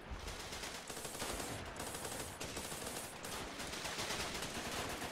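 Rapid bursts from a fast-firing gun in the war game Running With Rifles, dense continuous automatic fire with short gaps between strings, steady and loud with no talking.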